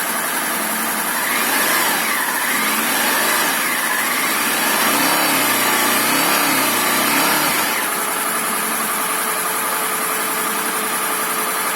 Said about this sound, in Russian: Вот звук работы мотора.